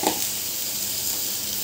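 Okra hits a hot wok and sizzles at once, a bright, continuous frying hiss that stays loud and even throughout.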